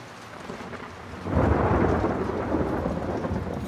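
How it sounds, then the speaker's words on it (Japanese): Thunder and rain in the video game The Last of Us Part II: steady rainfall, then a deep thunder rumble rolls in and swells into a loud, sustained roar that stays over the downpour, with no speech. "いや、雷すごいね。"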